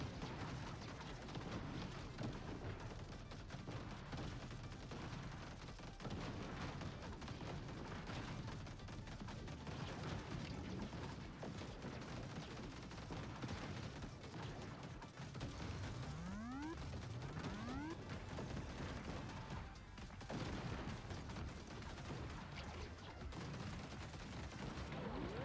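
Turrets firing in the video game TerraTech Legion, a dense, steady barrage of rapid gunfire and heavy booms at moderate distance, continuous throughout with brief whooshing sweeps near the middle.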